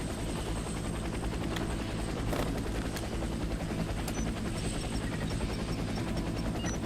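Helicopter in the shooter video game Warface, a steady whirring rotor drone with faint sharp clicks and pops scattered over it, continuous and moderately quiet.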